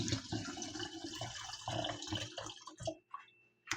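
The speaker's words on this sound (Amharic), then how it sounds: "አሁን ውሃ እንጨምርበታለን።" Water pours into a container holding a honey and lemon remedy, a close gurgling, splashing stream that trickles to a few drips and stops near the end.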